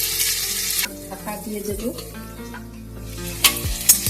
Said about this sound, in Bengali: প্রথমে আমি আলুটা ভেজে নিচ্ছি, অল্প নুন দেবো